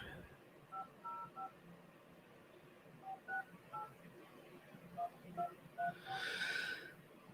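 Telephone keypad dialing tones beep in a quick series of short, evenly spaced presses, moderately loud over faint background noise, with a breathy rustle near the end.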